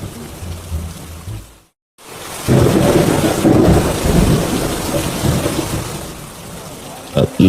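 Heavy monsoon rain pours down steadily while thunder rumbles through it, loud and close. The roar cuts to silence for a moment before surging back even stronger.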